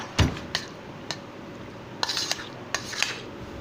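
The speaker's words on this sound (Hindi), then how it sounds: "इसको मैं अभी सारे को अच्छे से मिक्स कर लेता हूँ सैलड को" A spoon clinks and scrapes against a bowl while pineapple salad is mixed with milk cream and mayonnaise, several sharp taps and brief scrapes at an irregular pace.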